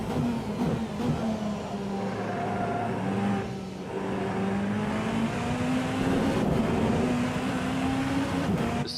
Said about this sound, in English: The sound of the tires are too high yet.